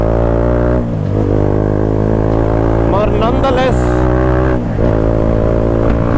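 A modified BMW 310R motorcycle with an aftermarket exhaust, its engine loud and close as it idles and rises in a few quick revs, while someone talks over it.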